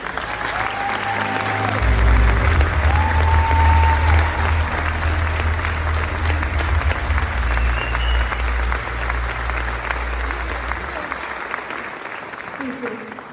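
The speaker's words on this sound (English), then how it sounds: "I would really like to give you a round of applause" A large crowd at a gala applauds steadily and loudly for several seconds, with cheers and a few voices mixed in, slowly tapering toward the end.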